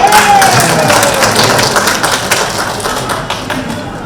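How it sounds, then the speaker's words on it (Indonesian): A crowd at a women's organisation anniversary gathering in Indonesia claps loudly and densely, with a brief tone at the outset, and the applause tapers somewhat toward the end. "Apresiasi tepuk tangan buat kita semua."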